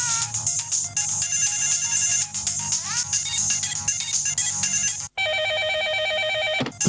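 Close and loud, a telephone ringtone warbles in a rapid electronic pattern, breaks off briefly, then resumes as a different pulsing melodic tone.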